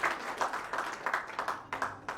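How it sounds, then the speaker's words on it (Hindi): Audience at an electricians' award ceremony clapping for a national winner being called to the stage, a steady, fairly close wash of applause with rhythmic swells throughout. "एक जोरदार ताली हो जाए, जोरदार एकदम।"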